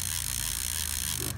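A fast, steady ratcheting click rattles continuously up close from a fishing reel's anti-reverse lock, like a mechanism being spun, ending abruptly.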